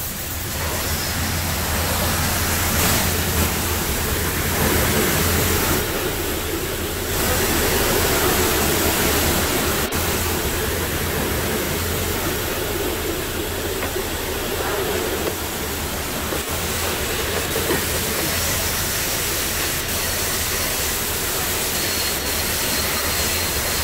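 An automatic car wash sprays a car at an auto spa with hot wax, a loud, steady rushing hiss of water jets that continues with little change throughout, close and enveloping.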